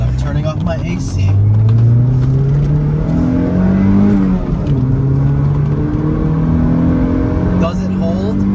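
A car with a repaired soft top accelerates up to speed on the road, its engine note rising steadily under loud wind and road rumble inside the cabin, with people talking over it.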